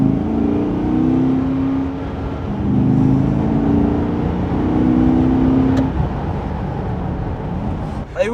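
A 2023 Chevrolet Corvette C8 with a V8 heard from inside while driving, its engine droning low and steady with gentle rises in pitch, overlaid by road noise and ending with a brief click.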